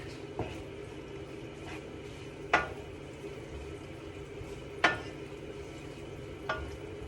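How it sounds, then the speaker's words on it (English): Garlic and ginger sizzle softly in a pot while a utensil scrapes and clinks against the metal a few times at irregular intervals. "you kind of do want to be stirring this at all times"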